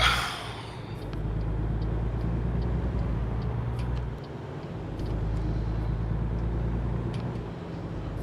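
A truck drives across an unfinished bridge in American Truck Simulator, its engine a steady, loud, low rumble that swells and dips slightly, with faint clicks over it and no speech.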